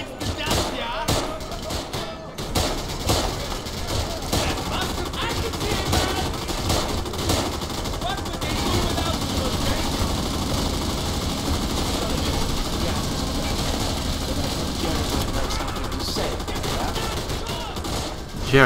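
Sustained automatic gunfire from a machine gun in the World War II shooter game Raid WW2, dense and continuous across the whole stretch with game effects mixed in.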